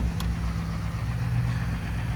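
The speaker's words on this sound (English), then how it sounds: "So the vehicle is currently running." A 2017 Ford F250 Lariat Super Duty pickup idles with a steady, low engine rumble, close and continuous, with no talking.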